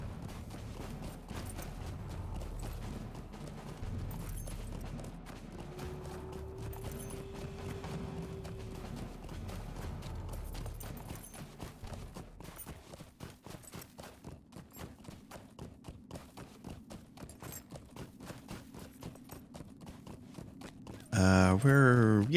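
A horse's hooves clip-clop steadily in Lord of the Rings Online, a continuous rhythmic trot close by, with game ambience beneath and a brief louder musical burst at the end.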